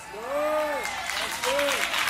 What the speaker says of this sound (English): You're clapping like you're not really sure